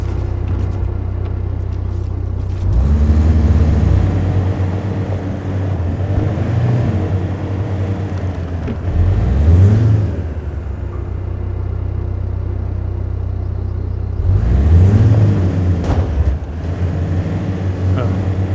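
A truck engine in the MudRunner off-road game rumbles steadily at low pitch, surging into louder revs three times, with no talking over it.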